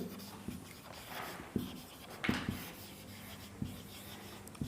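Handwriting during a Class 10 maths lesson on areas related to circles: quick scratchy strokes and taps as an answer is written, close and fairly quiet, with no talking.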